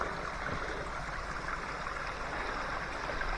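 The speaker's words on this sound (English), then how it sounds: "but that's the stream" A small stream trickles and rushes toward a modest waterfall near a coastal village, a steady, fairly quiet broadband water noise with no voices over it.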